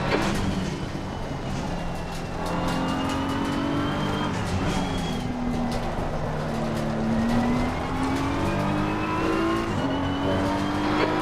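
Race car engines howl through a multiclass circuit race, loud and close, their pitch repeatedly climbing and dropping through gear changes as the cars push on with no talking.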